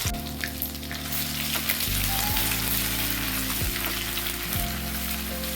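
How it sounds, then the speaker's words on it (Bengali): Whole cumin, two dried red chilies and a spoon of garlic paste crackle in hot mustard oil, a dense steady sizzle close by. A separate low droning tone runs underneath, and nobody speaks. "তেল গরম হয়ে গেছে, দিয়ে দিলাম অল্প গোটা জিরে, 2টো শুকনো লঙ্কা, আর দিয়ে দিচ্ছি 1 চামচ রসুন বাটা"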